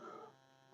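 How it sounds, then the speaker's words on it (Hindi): After a faint low hum indoors, a single sharp cough bursts out loudly and close at the very end, cut off abruptly. "सॉरी गाइस खांसी से आ गई थोड़ी सी"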